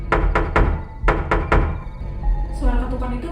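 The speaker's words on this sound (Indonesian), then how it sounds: "suara ketukan itu muncul lagi" Six sharp, close knocks on a bedroom door at night come in two quick groups of three. A voice follows at a lower level.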